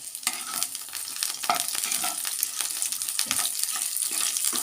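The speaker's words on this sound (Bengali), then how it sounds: "পেঁয়াজটা একটু ভাজা ভাজা হোক" A small onion frying in oil in a kadai crackles and sizzles up close, with repeated scraping stir strokes over the steady bubbling.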